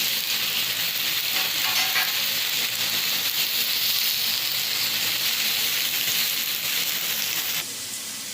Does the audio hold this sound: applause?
no